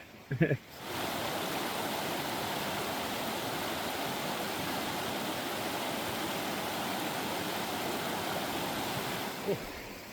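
Cold river water rushes and splashes steadily at close range, a dense, constant broadband roar of flowing current that begins abruptly after a short sound at the start and continues without pause.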